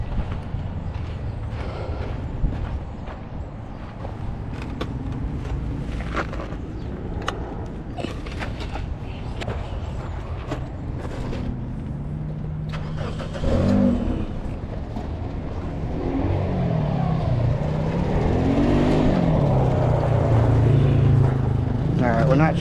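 A 2006 Toyota Corolla with a charging fault starts up, a few clicks and cranking giving way to a steady engine idle that grows louder and rumbles toward the end.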